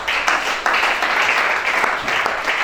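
A church congregation applauds steadily during a Gabonese worship service, dense clapping sustained and fairly loud throughout with a brief lull and renewed burst.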